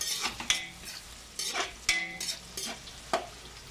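Onion sizzles quietly in a pan with intermittent stirring, utensil scrapes and clinks against the cookware, close but soft, with no talk.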